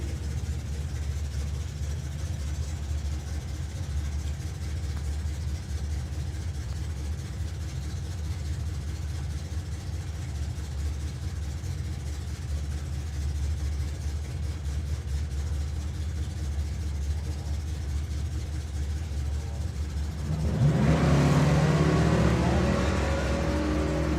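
Drag racing at a strip, a Chevrolet Nova among the cars: a constant engine rumble and crowd-level ambience for a long stretch, then a sudden louder burst of revving near the end.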